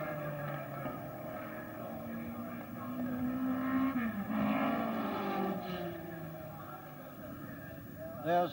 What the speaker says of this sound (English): here he is accelerating down pit straight, going into Paddock Bend